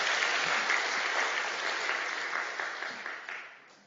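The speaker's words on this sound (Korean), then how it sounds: "우리 박수로 한 번 더 격려할까요?" A church teachers' workshop audience claps in encouragement. The applause is steady and dense, then tapers off with a few scattered claps toward the end.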